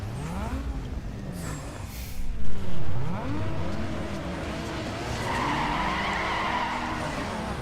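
Car tires skid and squeal in Need for Speed Underground 2 after the handbrake is pulled, with a steady engine roar and rising, sweeping tones, plus a brief louder burst midway through.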